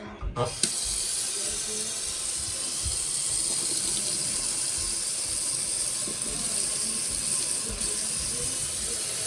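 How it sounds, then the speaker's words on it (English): Fresh water runs steadily from a tap into a jar holding garlic, a continuous close hiss that carries on for several seconds with a short clunk at the start. "I need to put some fresh water in with our garlic"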